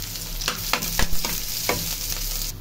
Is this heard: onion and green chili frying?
yes